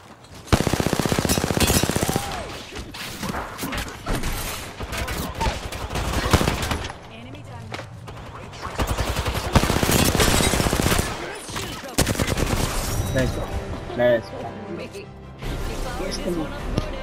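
Apex Legends gunfire sounds in dense, rapid automatic bursts with short pauses between volleys, loud and close, while a player talks over much of the shooting.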